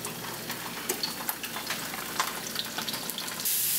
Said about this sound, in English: we're just going to take the link whole, and we're just going to sear it up a little bit